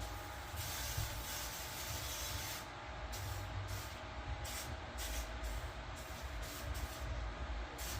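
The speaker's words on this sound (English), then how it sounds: "You know, you give a good spray underneath the bottom." A continuous hissing spray of cleaner under an RC car chassis runs for several seconds, broken by brief pauses, fairly faint against a low steady background rumble.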